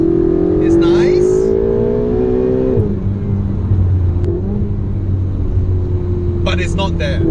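Engine of a 2017 Ferrari 488 GTB revs loudly and close up, its pitch climbing steadily before dropping back to a lower burbling idle, with a brief voice near the end.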